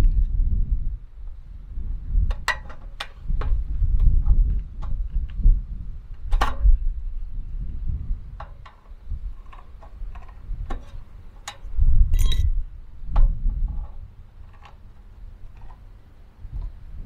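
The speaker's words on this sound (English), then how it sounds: "So now I've got this nice little slit that I'm going to bend in." Metal corner trim is cut with a slit and bent in by hand, producing scattered sharp metallic clicks and snips over low handling rumbles, close and fairly quiet.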